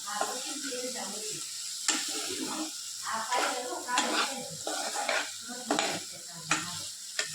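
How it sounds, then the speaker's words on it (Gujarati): Paneer sizzles in a pan while being stirred and sautéed, with steady frying hiss and repeated scraping, clinking strokes of a utensil against the pan. "વચ્ચે વચ્ચે પનીરને હલાવતા રહો, તેનાથી મસાલો એકદમ સરસથી ભળી જાય।"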